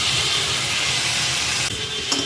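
Steady sizzle of steamed bottle gourd peels stir-frying in a pan, a close continuous hiss with a brief scrape near the end.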